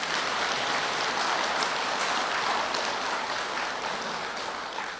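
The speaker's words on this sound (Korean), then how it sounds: "일단은 박수 한번 쳐주고." An audience at a Buddhist dharma talk claps together in a dense, sustained burst that holds steady for several seconds and tapers slightly near the end.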